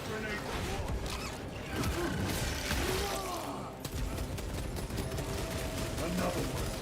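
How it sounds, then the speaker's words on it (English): Rapid gunfire bursts and a blast from a thrown frag grenade in a video game shooter, loud and continuous with overlapping shots and mechanical clatter, while a voice talks over the action. "Frag grenade deployed."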